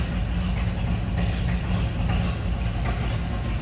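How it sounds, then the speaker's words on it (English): A low, steady idle rumble from the inline-six engine of a 1955 Chevrolet 3800 pickup through a split manifold, even and close, with no talking. "A little rumble coming out of that split manifold."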